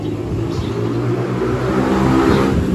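A loud, rumbling motorcycle engine with an open exhaust pipe revs close by, holding a rough, throaty drone that swells slightly toward the end.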